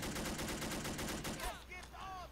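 Sniper rifle fire in Men of War Assault Squad 2, heard amid a dense stretch of rapid battlefield gunfire that fades into quieter background noise, with faint voices near the end.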